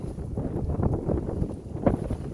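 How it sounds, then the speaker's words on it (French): Outdoor wind buffeting a microphone gives low, rumbling gusts that surge and fade irregularly, loud and close, with no clear voice. "il y a du vent, désolé"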